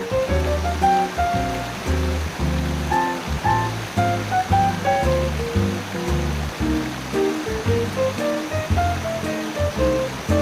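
A resort stream in Chiang Mai, Thailand flows and splashes continuously, with a bright plinking melody playing over it throughout.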